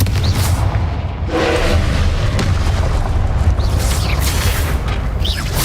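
Confringo blasting spell explosions in the Hogwarts Legacy video game, a dense barrage of booming blasts and bursts over a constant loud rumble of spell-fire, with no pause in the chaos.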